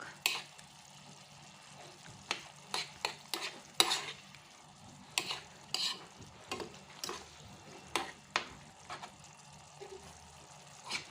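Baby food for an eight-month-old is stirred in a pan with vegetables, soft sizzling under a series of close, irregular scraping and tapping strokes of a spoon, fairly quiet.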